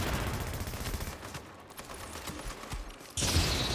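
Dense, loud gunfire rattles through a firefight in the video game The Division, with overlapping shots and a sharp burst near the end.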